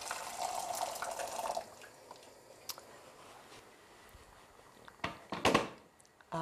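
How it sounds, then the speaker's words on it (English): Boiling water pours into a saucepan for cooking rice, a bright splashing gush for about a second and a half, then quieter drips and a few sharp clinks of the pan near the end. "I'm going to get some boiling water and pop it in a saucepan"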